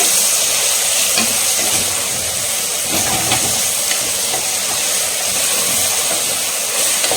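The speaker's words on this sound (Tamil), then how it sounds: "இந்த தக்காளி வெங்காயம் வதங்கும் போதே நம்ம வந்து மிக்ஸ் பண்ணிக்கலாம்" Tomatoes and onions sizzle steadily in hot oil for biryani, a continuous loud frying hiss with soft scraping as a utensil stirs through the pan, no voices.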